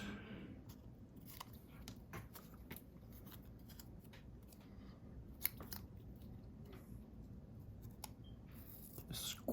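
Scissors snip through a paper junk journal tag in a run of short crisp cuts, quiet and close, spaced irregularly with small rustles between them.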